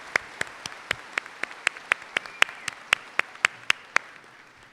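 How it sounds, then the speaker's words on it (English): Sparse clapping at a college commencement for graduating students with highest honors, a couple of dozen sharp, evenly spaced claps from a few hands, fairly close, with faint background murmur. "Let's have one more round of applause for our students with the highest honors."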